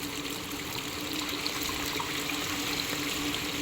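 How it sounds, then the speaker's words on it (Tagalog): Water gushes steadily and forcefully from a hose fed from a dam, a constant rushing stream close by with no voices. "Lakas po yung tubig."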